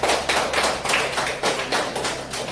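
A group claps for a student named Spencer in a classroom, a run of brisk, rhythmic hand claps that sound close and fairly loud, with no talking over them.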